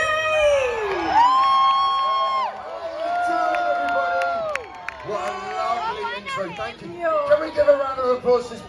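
A festival crowd roars and cheers at an outdoor Christmas event in Swindon Old Town as a singer is welcomed on stage, the loud crowd noise swelling and surging throughout amid musical tones.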